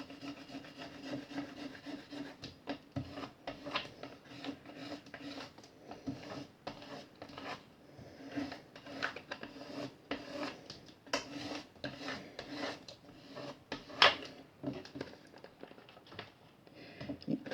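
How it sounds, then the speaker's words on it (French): A loyalty card scrapes repeatedly across a plastic sleeve laid over a decoupage napkin, giving irregular close rubbing strokes, some sharper than others, with no speech. "il n'y a plus qu'à gratter avec la carte de fidélité."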